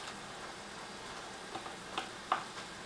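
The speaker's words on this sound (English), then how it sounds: "After the sauce begins to sizzle," Sauce sizzles steadily in a pan as cooked rice goes in for omurice, with a constant frying hiss and a few soft stirring clicks near the end.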